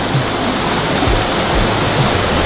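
Huay Luang waterfall pouring steadily, a loud, dense and unbroken rush of falling water heard up close with no voices.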